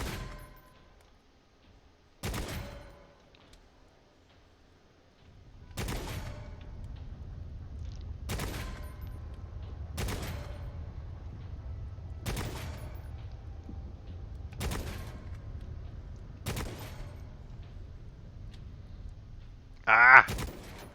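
Gunfire at a shooting range in Necromunda: Hired Gun: about eight sharp, evenly spaced shots ring out at a steady pace over a low rumbling background, followed by a brighter burst near the end.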